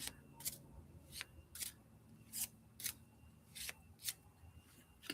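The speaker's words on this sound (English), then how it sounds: "Getting the cards all warmed up and shuffled." Tarot cards are shuffled in a quiet room, giving crisp, papery riffles and snaps that repeat in a steady rhythm about every half second, close and soft.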